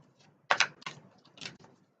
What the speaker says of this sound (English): I'll just give them a bit more of a shuffle.